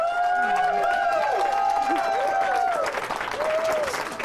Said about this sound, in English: Hundreds applauded the four same-sex couples who successfully struck down Idaho's ban on same-sex marriage as they walked into the Ada County Courthouse